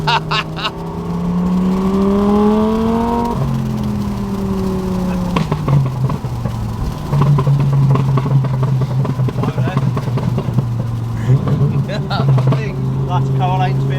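A twin-turbo V10 Audi R8 tuned past 1000 horsepower revs hard from inside the car, its engine note climbing and dropping in long sweeps, loud and close, with voices talking over it.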